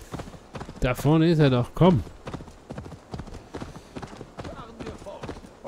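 Steady clip-clop of horse hooves while riding in Assassin's Creed Valhalla, a rhythmic trot running throughout under someone speaking German and a brief game voice.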